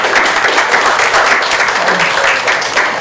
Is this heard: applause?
yes